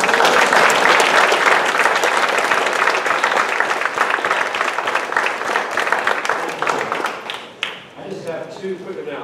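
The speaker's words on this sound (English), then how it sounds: "let's give them a warm round of applause." A crowd at a community energy meeting with HELCO and NextEra gives the presenters a warm round of applause, loud and dense at first, thinning toward the end as a voice starts to speak.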